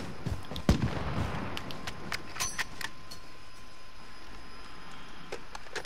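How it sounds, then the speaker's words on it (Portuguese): Nearby gunfire in Call of Duty: Modern Warfare, with sharp irregular shots cracking over continuous game ambience, one shot much louder early on and fainter reports scattered afterward. "Opa, tiro tá perto de novo."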